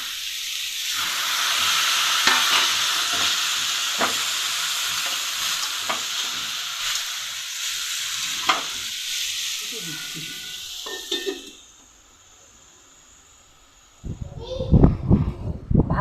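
Jackfruit frying in a pan as water is added, with a loud steady sizzle and hiss and intermittent stirring scrapes, the sizzle dropping away near the end before clattering stirring sounds return.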